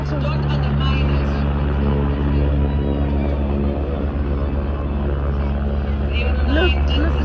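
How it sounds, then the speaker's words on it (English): A helicopter doing stunts such as handstands at an air show throbs loudly and continuously with a steady low rotor drone. Crowd chatter runs under it throughout. "The things he's doing with this helicopter, hectic stuff."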